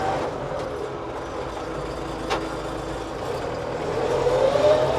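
A Scout TE504C tractor engine drones steadily throughout, a low continuous rumble that swells slightly toward the end, with a brief knock partway through.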